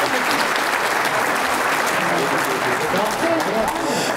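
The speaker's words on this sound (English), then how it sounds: "Another round of applause" Steady, dense applause from a large audience at the 2019 Canadian Lacrosse Hall of Fame induction ceremony, continuous and even throughout, with faint voices underneath.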